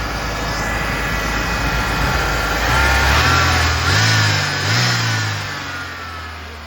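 A Ford Mustang Fox Body bought at auction idles loud and close, slightly high, with a couple of gentle rises and falls in engine speed, no talking.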